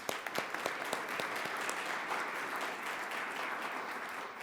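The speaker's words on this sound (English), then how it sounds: "Let's give them a round of applause." Steady applause from a club luncheon audience thanking sponsors, with sharp individual claps at the start that blend into a sustained, even roar of clapping.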